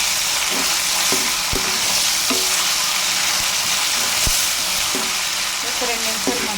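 Onions fry with ginger garlic paste in a pan, a constant loud sizzle broken by repeated scraping clicks of a spoon stirring against the pan.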